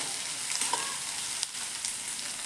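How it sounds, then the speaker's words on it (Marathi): Onions frying in a pan for a purslane bhaji, a steady close sizzle and crackle with a few light scraping stirs and small pops. "आता कांदा आपण लाल होईपर्यंत बघा परतून घेऊयात."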